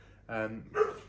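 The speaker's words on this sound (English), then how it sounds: "Completely forgot that was a dog barking." A dog gives two quick, sharp barks nearby, short and distinct, with only a brief pause between them.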